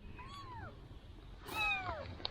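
A cat in a Vietnamese village meows twice, close by, with falling cries separated by a short pause against quiet outdoor background.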